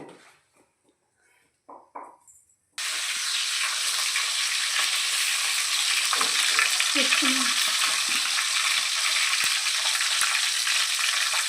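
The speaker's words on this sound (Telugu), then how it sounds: "ముందు ఇలా ఎగ్స్ను ఆయిల్స్లో బాయిల్ చేయాలండి" Eggs fry in hot oil for egg biryani, a steady crackling sizzle that starts suddenly after a few quiet clinks and continues evenly, with faint stirring and occasional utensil scrapes close by.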